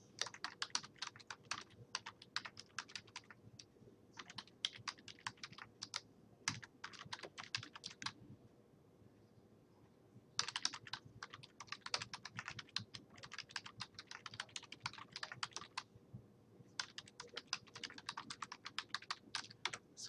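Rapid, uneven keystrokes on a computer keyboard entering comments, typed alone in two long bursts split by a brief pause, fairly close and clear.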